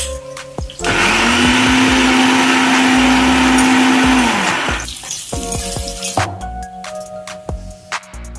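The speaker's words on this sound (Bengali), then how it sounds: "এবার ব্লেন্ডারে দিয়ে" An electric blender roars loud and close while pureeing boiled tomatoes for about four seconds, then winds down and stops, followed by clattering of the jar and utensils.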